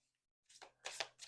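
Regular-size tarot cards are shuffled overhand: quick papery riffles and slides come in two or three close bursts after a moment of silence, soft and nearby with no talking.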